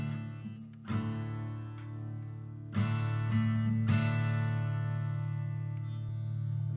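An acoustic guitar in DADGAD tuning strums open, droning chords, several strums ringing out and sustaining between strokes.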